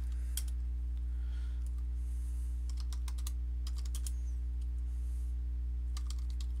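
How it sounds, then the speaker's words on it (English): Bursts of computer keyboard typing, clusters of quick light clicks separated by short pauses, sound faint and a little distant over a strong steady low electrical hum. "Yeah, I'm just typing something."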